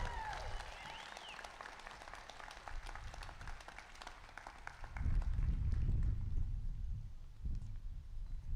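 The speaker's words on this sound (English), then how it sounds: "Please give a full round of applause for these students." Audience applause for graduating students at a high school graduation ceremony, moderately distant clapping that fades partway, with low rumbling handling noise and murmuring underneath.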